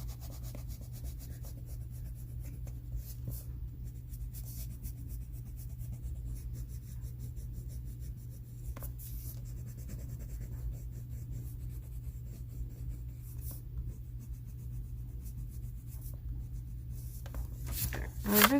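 Coloured pencil strokes on paper make a faint, continuous soft scratching and rubbing over a steady low hum, with a slightly louder stroke at the end.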